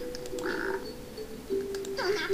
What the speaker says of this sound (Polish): Cicho bądź, żabo